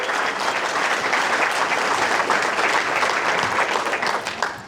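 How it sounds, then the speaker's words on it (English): An audience at a graduation success talk breaks into sustained, even applause, a dense broadband clatter of many hands holding at steady volume for several seconds before tapering slightly. "Round of applause for that"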